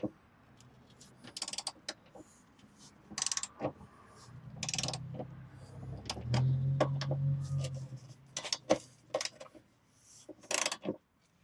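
Factory side step bolts are worked loose from a Ram 1500 pickup with a ratchet. Sharp clicking ratchet strokes come in bursts around a low, steady mechanical whir, close and moderately loud.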